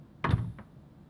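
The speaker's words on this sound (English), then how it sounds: "Can you just close the door?" A door shuts in a dorm room with a short, solid thud followed by a softer knock a moment later, close by and otherwise quiet.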